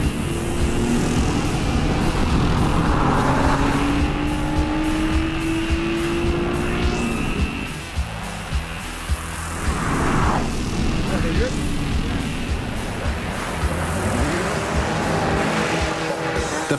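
Racing cars at the Goodwood Festival of Speed, engines roaring loudly and continuously with pass-by sweeps and brief tire squeal, a crowd-like wash and voices underneath.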